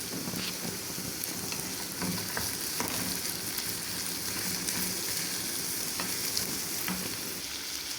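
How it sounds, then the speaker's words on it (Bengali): Capsicum and carrots fry in a pan with a steady, even sizzle and crackle, heard alone without any talking. "এখন ক্যাপসিকাম আর গাজরগুলো দিয়ে দিয়েছি। এটা একটু ভাজা হয়ে আসলে দিয়ে দেব টমেটো"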